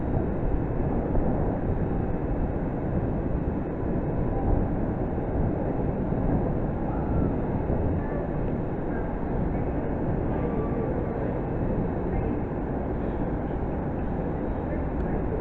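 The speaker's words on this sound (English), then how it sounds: "Next train to arrive, which is arriving on platform 8" A train rolls into platform 8 at Reading station, a continuous low, heavy rumble that holds steady and close throughout with no clear breaks.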